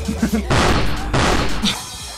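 A Model 725 shotgun loaded with slug rounds fires in a first-person video game, heavy booming blasts about half a second apart, each with a crashing tail, amid excited shouts from a player.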